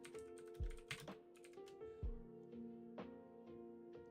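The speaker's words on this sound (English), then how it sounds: "I'm typing it out right now" Quick keystrokes clatter on a computer keyboard in an uneven run of light taps, with a couple of heavier thumps, close and fairly quiet.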